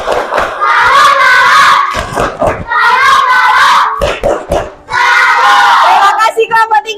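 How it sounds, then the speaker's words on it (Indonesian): A classroom of fifth-grade primary school children doing a rhythmic group salute clap, rapid patterned hand claps in bursts mixed with their chanting voices, loud and close. "Kasih tepuk salut lagi"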